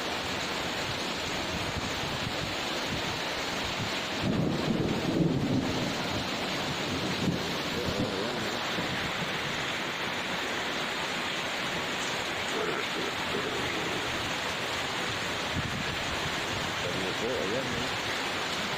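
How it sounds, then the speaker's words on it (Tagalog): Heavy rain pours steadily in Calamba, Laguna, a dense broadband wash that holds throughout, with a louder surge a few seconds in that may be distant thunder or a gust. "Lakas po ng ulan ngayon dito sa Calamba, Laguna."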